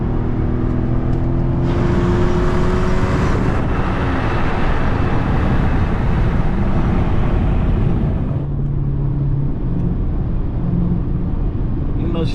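Loud, steady engine roar and road noise from a catless Pontiac G8 V8 at highway speed, a constant droning rumble throughout.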